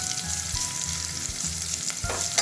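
Sliced onion, tomato and capsicum with ginger-garlic paste sauté in a pan for soya pulao, giving a steady close sizzle with a few soft scraping stirs and no talk.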